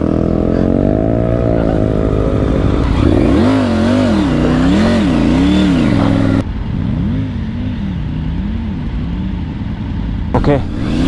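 A Triumph Tiger 900 Rally adventure motorcycle revs hard in the sand of the Thar Desert, its engine pitch rising and falling in repeated surges, loud and close, then settling to a rougher lower drone.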